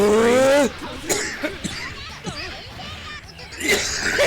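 A livestreamer lets out a couple of short, rough coughs close to the microphone, breaking up stretches of his own talking amid faint game sounds in the background.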